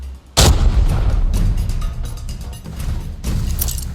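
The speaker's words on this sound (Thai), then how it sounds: "เพื่อนระวังนะเพื่อน ระเบิด ระเบิด" Heavy booming grenade explosions and gunfire in the video game Arena Breakout crash in quick succession, loud and close, with a sharp blast at the start and more impacts following.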